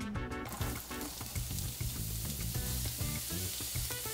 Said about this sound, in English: sauteing some shallots